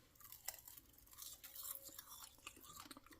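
Crunchy seasoned kale chips chewed close up, a run of soft irregular crunches and bites with no talking.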